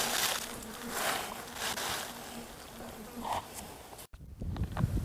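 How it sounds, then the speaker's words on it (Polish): A steady, high mosquito buzz whines on and off over an outdoor background during a November spinning fishing trip, then cuts out briefly before a low rumble rises. "Wymiękam, tyle komarów."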